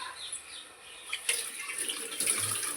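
Water poured onto a plastic cover while making sorakaya chekkalu (bottle gourd snacks) in a kitchen, a soft, close splashing trickle with bright hiss, steady and quiet with no talk over it.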